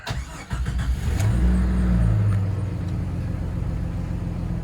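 A Jeep ZJ engine cranks over and catches, then settles into a steady, loud idle with a low droning rumble close by and no one talking.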